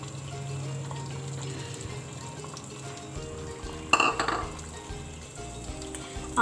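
Beaten eggs frying in a pan over a high flame, a low steady sizzle broken by a sharp metallic clink of a utensil against the pan partway through.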